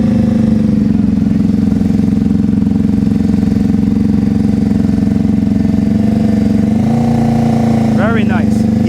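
A motorcycle engine held at a steady low throttle during slow-speed riding practice, a continuous close rumble that shifts slightly near the end, with voices faintly present.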